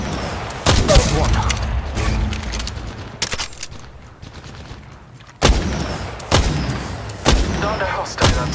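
Gunfire in Apex Legends Mobile: close, loud bursts of rapid automatic shots with sharp cracks and heavy low thumps, a quieter gap in the middle, then renewed volleys mixed with game effects.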